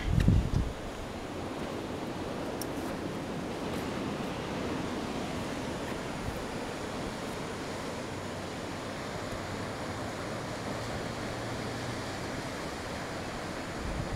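Ocean surf rolls steadily onto Bentota Beach on Sri Lanka's green coast, a continuous broadband wash of breaking waves with a faint wind edge, heard from a hotel vantage and unbroken by any voices.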